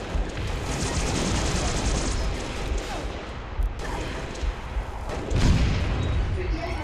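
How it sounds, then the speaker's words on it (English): Gunfire in Halo: Reach, including sniper shots, with a steady rattle of shots throughout and a few sharper, louder cracks standing out near the end. "Oh, someone has a sniper."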